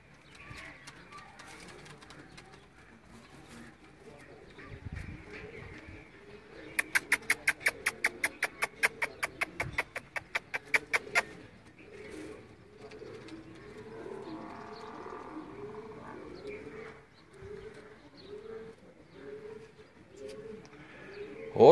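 Sialkoti breed pigeons coo repeatedly at close range, with soft rhythmic calls running throughout and a brief burst of rapid clicking or flapping in the middle.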